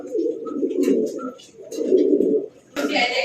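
A male pigeon coos nearby in two long, rumbling phrases, followed by a sudden brief rustling burst at the end.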